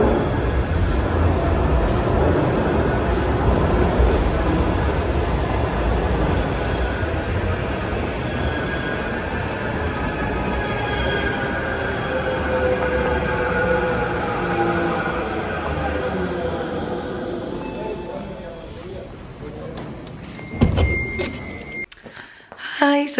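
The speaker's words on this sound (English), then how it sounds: "Okay, so I'm now at the tram station. Just waiting for the tram." Ambience at a Liverpool tram station: a steady low rumble of rail traffic and passing vehicles fills the space, easing off toward the end before a few close knocks and clatter.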